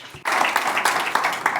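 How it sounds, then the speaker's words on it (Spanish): An audience at an energy-transition conference breaks into applause for the speakers, a dense burst of clapping that starts abruptly and carries on briefly. "Espero que ahora se unirán a mí para dar un aplauso"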